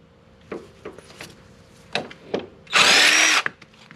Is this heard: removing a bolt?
yes